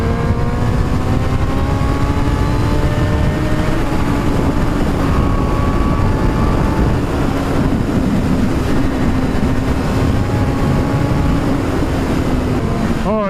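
A 2017 Honda CBR1000RR Fireblade SP1 accelerates hard, its engine note climbing steadily under heavy wind rush for a loud, unbroken stretch.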